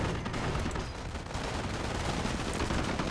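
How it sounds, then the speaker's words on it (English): Panzerschreck rockets fired by infantry at a tank in the Company of Heroes video game, heard as a dense, continuous battle din of overlapping gunfire and explosions lasting the whole few seconds. "Then my infantry starts firing its Panzerschreck at it"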